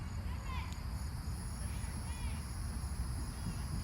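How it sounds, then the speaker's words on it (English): Crickets chirp in short repeated bursts over a steady, noisy outdoor background, the trills fairly faint and spaced a second or so apart. "Crickets. All of you insects."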